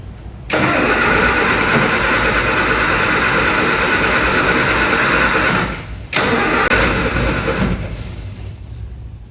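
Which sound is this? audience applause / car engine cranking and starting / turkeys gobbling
car engine cranking and starting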